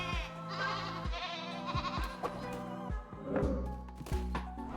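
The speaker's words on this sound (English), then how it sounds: "Killer goat, activate. But this one is very angry." A goat bleats in the video game Cult of the Lamb, wavering cries mixed with game music and soft thuds, moderately loud throughout.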